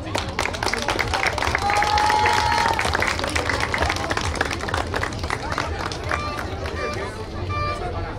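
A festival crowd applauds the Voladores de Cuetzalan dancers at a fair in Tepanco, with dense, sustained clapping and cheering throughout and a murmur of voices beneath.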